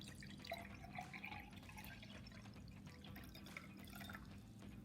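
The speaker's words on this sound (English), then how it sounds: "I'm going to fill the glass up with water" Water pours from a container into a glass, a soft, continuous trickle with faint dripping over low background hum, quiet and close.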